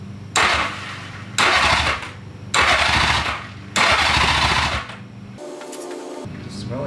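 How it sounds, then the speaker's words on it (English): A Honda Goldwing motorcycle engine, just fitted with a repaired starter clutch, cranks in four loud, separate starter bursts before falling quiet, then settles into a faint steady run close by. "let's start it up, and more importantly, let's see if it starts up and if our starter clutch pair actually worked"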